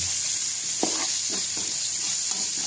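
Onion sautéing in a pan for sprouted beans, with a continuous bright sizzle and a few soft stirring scrapes, no speech.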